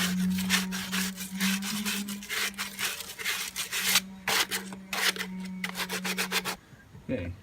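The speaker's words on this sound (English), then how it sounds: "After cutting, take a piece of sandpaper." Sandpaper rubbing back and forth over the freshly cut end of a pipe during a front-yard sewage and water line install, a steady close scraping rhythm with a low hum beneath that stops near the end.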